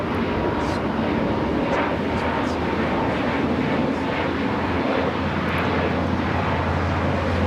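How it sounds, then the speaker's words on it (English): A Spirit Airlines Airbus A320neo taking off from LAX for Kansas City produces a constant, loud, heavy engine roar with a deep low hum throughout, close by and uninterrupted. "This is Spirit Airlines 2687 taking off to Kansas City on the A320neo"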